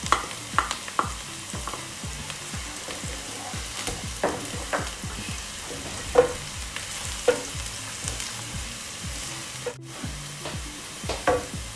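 Garlic sautéing in a pan for beef lasagna, with a steady sizzle and frequent scraping stirs of a utensil against the pan, close and continuous with no talking.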